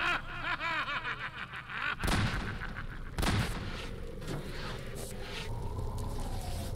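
Gunfire in Half-Life 2, with two sharp, loud shots about a second apart cutting through a noisy game scene full of rumbling and warbling effects.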